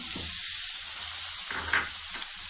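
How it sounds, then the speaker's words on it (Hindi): Cabbage, capsicum, peas and beans tipped into a pan of lightly browned frying onions, giving a steady loud sizzle with a brief clatter of stirring midway. "अब हम इसमें ऐड करते हैं अपनी सब्जियाँ।"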